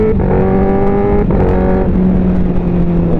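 A Honda CBR 1000 SP race-version motorcycle with Super Corsa tyres, Öhlins suspension, Brembo brakes and OZ wheels revs hard and close, its engine note climbing through gear changes with loud steady harmonic whine.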